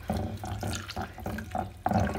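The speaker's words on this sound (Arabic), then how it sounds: "والان كنجيبو ماء ديال الزعترة وكنضيفوه" Thyme water poured into butter while making Moroccan smen, a steady splashing pour with rhythmic gurgling pulses that end in a louder splash.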